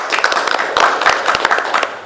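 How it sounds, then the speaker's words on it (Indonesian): An audience claps at a live theatre-history talk show, a close, brisk burst of many hands clapping continuously throughout. "Mbak Lita, tepuk tangan dong."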